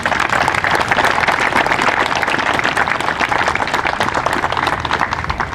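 Loud, sustained applause from a large crowd at a Veterans Day ceremony, dense overlapping claps filling the whole stretch without pause, and no speech over it.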